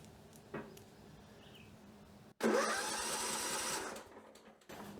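A 2005 John Deere L110 lawn tractor engine cranking in one close burst of about a second and a half, starting abruptly and fading out, with quieter background noise before and after.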